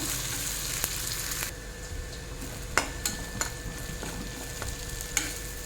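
Jackfruit seeds and onion fry in a pan, a steady low sizzle broken by several sharp clinks and scrapes of a spatula stirring.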